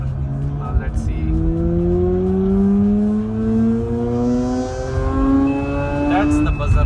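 A Mazda RX8 R3 with a 1.3-litre rotary engine revs smoothly and steadily upward toward 9000 rpm in a rising whine, then a thin, high-pitched shift buzzer sounds near the end. Some talk is mixed in.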